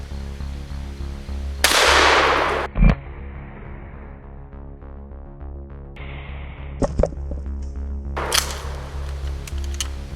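A shotgun fires a cut shotgun shell into three stacked 2x4s outdoors, a single loud close blast with a sharp crack, followed by a couple of fainter knocks and impacts and another burst of noise.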